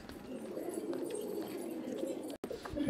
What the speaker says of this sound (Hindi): ये हमारे इलाके का गिरदान कबूतर है